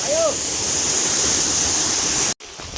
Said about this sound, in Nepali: हामी चाहिँ यति बेला नौबेनी धारा देख्न सक्नुहुन्छ